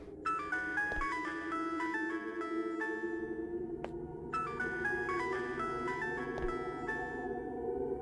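A phone ringing in the horror video game Araya, a repeating melodic electronic ringtone pattern over a low ambient hum, played twice with a short gap and a faint knock between.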